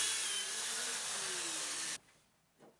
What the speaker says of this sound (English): I set the fence to 45 degrees on the dowel joiner, and then I can plunge it in.